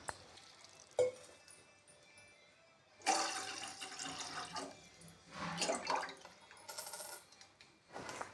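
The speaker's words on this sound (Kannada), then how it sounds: "ಅದಕ್ಕೆ ದೊಡ್ಡ ಗ್ಲಾಸ್ಲಿಂದ 2 ಗ್ಲಾಸ್ ನೀರನ್ನು ಹಾಕುತ್ತಾ ಇದ್ದೇನೆ." Water poured from a large glass into a pot warming on the stove, a few splashy gurgling pours separated by gaps, with small clinks and drips, close and moderate in level.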